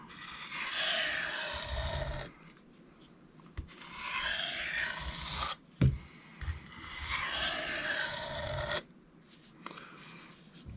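Very light strokes of a Cold Steel Mayhem knife on a Sharpal 162N or Shapton Kuromaku sharpening stone to remove a burr, soft rhythmic rasping in three long back-and-forth bursts separated by pauses, close and alone.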